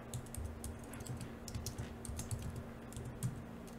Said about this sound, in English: just type it exactly how I'm typing it